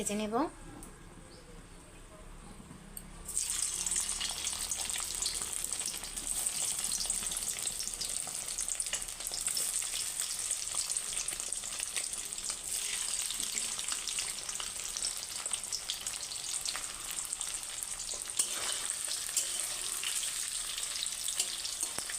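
Eggs go into a wok of fried onions and the quiet sizzle jumps to a loud, continuous frying hiss that holds steady throughout, with faint stirring.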